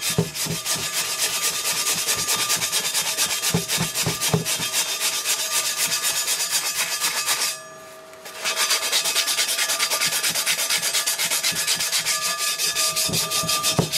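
An aluminium alloy wheel rim is sanded during a restoration, a continuous rough, rhythmic rasping that stops briefly midway and then resumes just as loud, close and alone.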